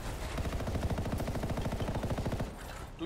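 Rapid automatic gunfire from a player's weapon in the game Anthem, a steady fast stream of shots lasting a couple of seconds, loud and close with no talk.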